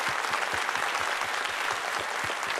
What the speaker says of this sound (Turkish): bugün akşam burada tilavet eden bülbüllerimizi yürekten bir kez daha alkışlıyoruz